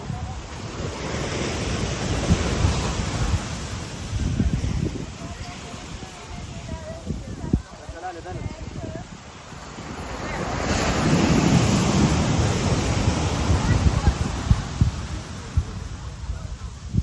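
Big ocean waves break on a Guadeloupe beach on Christmas Day, a loud roaring surf that swells and recedes, with wind buffeting the microphone and someone talking over it.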